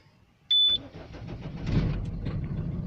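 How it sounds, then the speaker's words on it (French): A Peugeot Expert van starts up: a short beep, then the engine cranks, catches and settles into a steady idle, heard close and fairly loud from inside. "on va voir si la voiture elle démarre."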